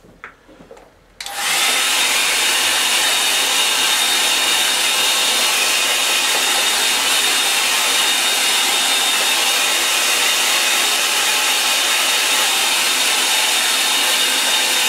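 A hair dryer drying wet watercolour paint switches on after a second of quiet and then blows in a loud, steady, close whoosh for the rest of the clip.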